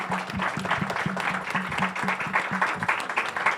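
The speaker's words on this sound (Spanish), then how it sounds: "Entonces, vamos a darle un aplauso." An audience applauds at a urology society academic session, steady clapping from a seated crowd filling the room for several seconds with no talking over it.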